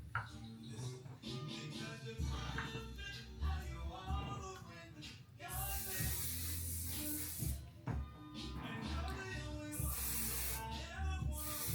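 Makeup setting spray hisses out in two broad, misty bursts a few seconds apart, over steady indoor background noise.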